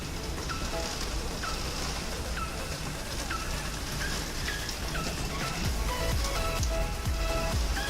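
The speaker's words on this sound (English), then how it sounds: "The rain is so loud" Heavy rain falls outside in a steady, loud hiss that fills the whole stretch, with a few faint bird chirps scattered through it.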